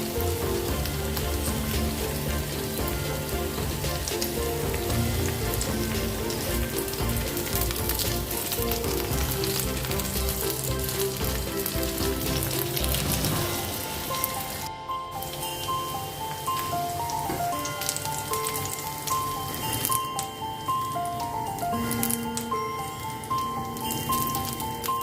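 Korean-style fritters in batter fry in a pan with a dense, steady sizzle that crackles loud and close throughout, like heavy rain on a surface, and no talking.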